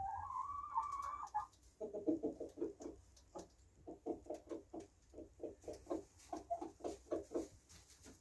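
A cockerel gives a higher call, then a steady run of low, rapid clucks repeats in quick pulses as it calls hens over, fairly close, with no talking.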